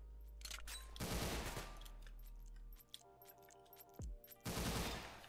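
Rapid automatic gunfire bursts in the Roblox game Arsenal, loud close volleys separated by short gaps, with game music and effects and no speech.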